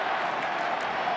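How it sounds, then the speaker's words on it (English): Crowd noise at the 2001 AFL Grand Final, Brisbane versus Essendon: a brief, steady wash of applause and cheering from a large stadium crowd, dense and continuous, with no distinct individual claps. "Wonderful crowd. And a wonderful atmosphere."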